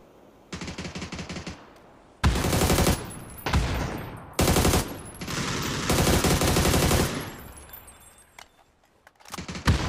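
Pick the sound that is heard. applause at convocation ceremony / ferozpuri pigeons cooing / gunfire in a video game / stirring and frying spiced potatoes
gunfire in a video game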